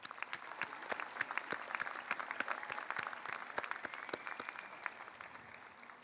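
Sustained applause from a commencement crowd honoring a student award recipient, steady clapping with scattered louder claps, moderately distant in a large hall.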